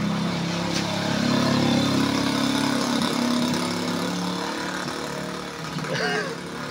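A motorcycle engine idles and revs while pushing through flood water on a submerged street in Dagupan, a loud rumbling drone that swells and then eases, with voices talking over it.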